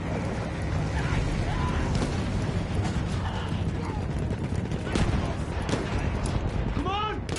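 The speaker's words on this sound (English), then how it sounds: "Those machine guns are holding our lads back." German machine guns in a video game, rattling in continuous bursts under a dense battle din with sharp impacts and shouting voices.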